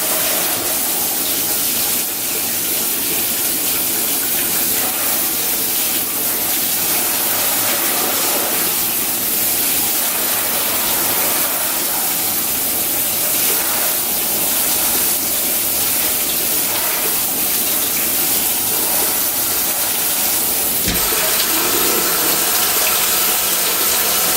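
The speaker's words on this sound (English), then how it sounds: "Now we're just gonna spray this down" Water sprays steadily and loudly for the whole stretch, a constant hissing rush like a faucet sprayer rinsing cooked ground beef in a sink to wash out grease.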